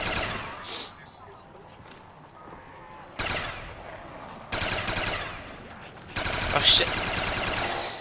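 An MP40 submachine gun fires in Call of Duty Black Ops zombies mode, in loud sustained bursts that start and stop over several seconds, with someone talking and swearing over the gunfire.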